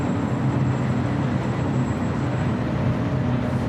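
An airliner taking off from runway 24 right at LAX gives a steady, loud, broadband jet roar that holds evenly throughout with no pauses.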